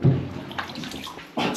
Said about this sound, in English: I'm just going to fill the bath up.